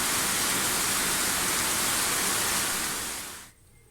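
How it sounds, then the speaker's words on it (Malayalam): Heavy rain pours outside a house in a thick, unbroken roar of close hiss that holds steady and then drops away sharply near the end, leaving a quiet patter; no one speaks. "പുറത്ത് മഴ അങ്ങനെ പെയ്തുകൊണ്ടിരിക്കുന്നുണ്ട് കേട്ടോ"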